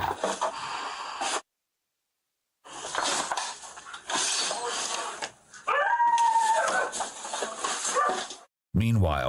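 Several malnourished dogs in a neglected house bark and whimper in bursts, with a whining, howl-like cry partway through, while people talk over them and sections drop to silence.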